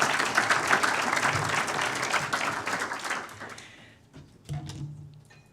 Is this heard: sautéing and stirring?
no